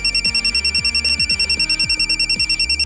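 A mobile phone rings with a loud, steady electronic ringtone, its tones pulsing in a rapid, even pattern throughout with no talk over it.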